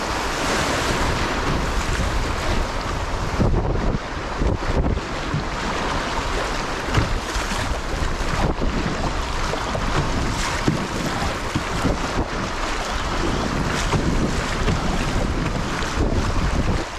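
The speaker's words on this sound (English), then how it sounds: "The wind picks up in these rapids, which is pretty cool." Strong wind roars over kayak river rapids, a continuous loud rush of wind buffeting the microphone blended with churning water, with no voices throughout.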